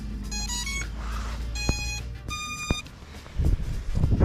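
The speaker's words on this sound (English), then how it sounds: "the drone is going to give you the startup tones" An Attop W70 GPS drone powers up with a series of bright electronic startup beeps and melodic tones, a few short chirps then longer sustained notes, heard close against a low background hum.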